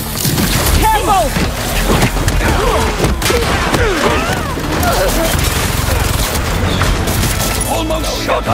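Rapid gunfire and booming impacts in the video game Spider-Man 2, loud and continuous amid a dense, chaotic action soundscape, with voices shouting over the shooting.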